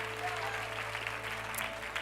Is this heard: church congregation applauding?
yes